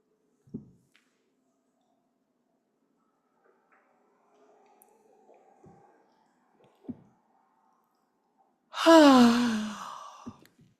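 One long, audible yawn swells near the end and trails off with a falling voiced sigh. Before it there is near silence with a few soft clicks and breaths.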